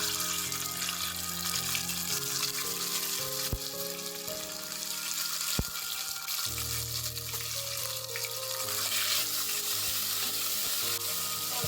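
Ginger and green chilli paste sizzles loudly in hot oil with five-spice seeds for a papaya curry, a steady dense frying hiss with occasional clinks of the pan, close and alone without speech.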